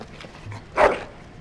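A dog in the video game Dragon Age Origins gives one short bark or yelp that rises briefly above a low, quiet background, loud and close, with no talk.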